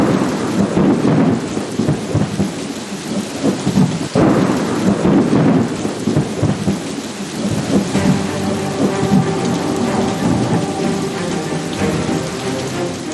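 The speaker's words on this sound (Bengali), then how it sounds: "প্রবল দুর্যোগ, ঝড় বৃষ্টি," Violent thunderstorm with heavy rain and hail, the kind that kept a plane circling above Kolkata: dense, loud rain pours steadily, with deep rolling thunder breaking through early on and rumbling on beneath the downpour.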